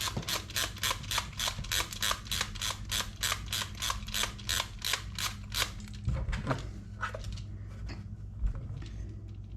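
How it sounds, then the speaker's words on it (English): Airsoft gun magazine being wound, a rapid run of about twenty evenly spaced ratcheting clicks over six seconds, close and crisp, followed by a few scattered handling clicks and bumps. "My mag needs a bit of winding."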